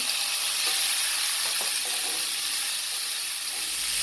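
Scotch bonnet pepper and garlic sizzle steadily in a hot frying pan, a loud continuous hiss close by with faint stirring scrapes underneath.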